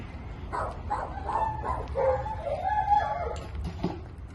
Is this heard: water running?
no